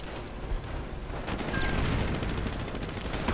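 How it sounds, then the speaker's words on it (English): Thompson submachine gun fire among Rangers in a WWII strategy game battle, a dense continuous rattle of overlapping shots with distant booms, steady and moderately loud throughout with no talk. "Rangers with the Thompson submachine guns."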